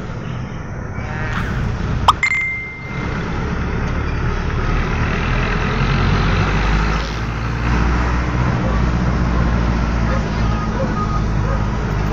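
Jeepney engine rumbling in street traffic, a dense continuous low drone with a sharp metallic clank and squeal early on, surrounding vehicle noise and some voices underneath.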